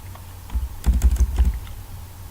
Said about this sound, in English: type in capital letters, type